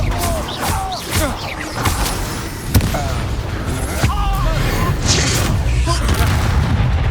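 In the PS5 release of Hogwarts Legacy, a Bombarda blasting spell detonates during a boss duel with Victor Rookwood, giving a sharp booming burst among whooshing spell casts and rumbling combat, with spoken lines in the fight.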